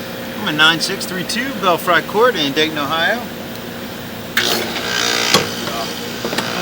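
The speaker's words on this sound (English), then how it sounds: "I'm right next to an AC unit, and it's 90 plus degrees outside today, so it's probably going to be running" An air conditioning unit runs outside a house on a 90-plus-degree day, a steady low mechanical hum beneath someone talking close to the microphone.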